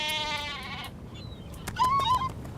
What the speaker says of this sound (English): There's a sheep near me. I can hear it bleating.